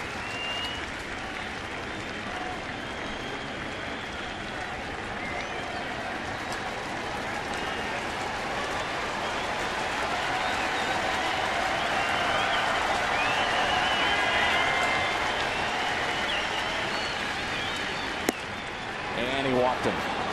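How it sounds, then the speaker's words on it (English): A baseball crowd at a St. Louis ballpark cheers and applauds steadily, a broad wash of clapping and voices swelling toward the middle, with an announcer talking over it. "Crowd trying to help him. Yep, coming alive."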